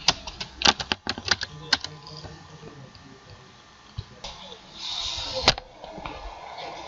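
Keyboard typing while entering a line of JavaScript code: a quick burst of sharp clicks early on, then sparser taps, fairly close and moderately loud against a quiet room.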